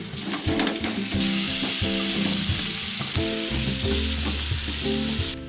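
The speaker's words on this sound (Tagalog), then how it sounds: "ang pinakaunang ihulog mo na gulay is itong kalabasa" Squash dropped into a hot pan for pinakbet sizzles loudly and steadily up close, with stirring and clatter mixed in at the start and a low background hum underneath.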